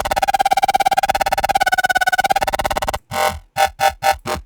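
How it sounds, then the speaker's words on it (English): A steady buzzy Serum synthesizer tone, frequency-modulated by another oscillator, with a wobbling, metallic timbre sustains for three seconds, then four short separate stabs of a similar tone follow. "And you can even do things like frequency modulation from another oscillator."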